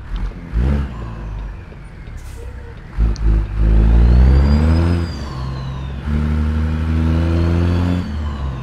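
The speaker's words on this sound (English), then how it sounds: "Turbo winding up, making that boost." A Peterbilt 379 truck engine in American Truck Simulator revs in repeated surges, and a thin turbo whine rises and winds up over the deep, close engine drone.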